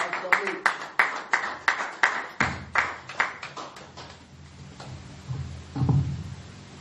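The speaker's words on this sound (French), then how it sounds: "Est-ce que tu peux acclamer pour la gloire de Dieu?" A church congregation claps together in a steady rhythmic beat, sharp repeated claps over several seconds that loosen into scattered applause and voices toward the end.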